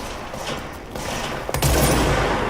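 Rapid gunfire from weapons in the video game Control, loud and continuous bursts with sharp impacts, heavier near the end, with no talking.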